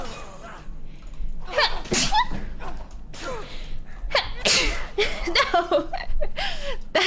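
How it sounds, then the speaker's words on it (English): A person sneezes during a casual video game session, with sharp, loud bursts standing out among chuckles and brief vocal sounds close to the microphone. "I gotta sneeze."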